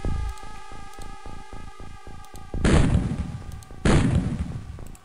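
Gunfire aimed at an alien in OpenXCom: a rapid burst of evenly spaced synthetic shots, then two loud, crunchy blasts that ring out and decay, alone without talk.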